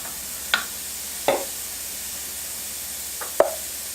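Chopped celery is stirred in a pan of melted butter for cornbread stuffing with pork sausage, giving three separate scraping spoon strokes spaced apart over a faint, steady sizzle, close and quiet.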